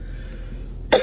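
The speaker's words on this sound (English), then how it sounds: "sorry that, you know, constantly clearing my throat" A single short, loud throat-clearing burst from a person with a persistent irritated throat, close to the mic, coming abruptly at the end after near silence.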